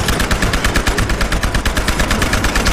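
Rapid, sustained automatic gunfire in the video game Battlefield Hardline, loud and dense, with shots hammering in a steady fast rhythm for the whole stretch and no talking over it.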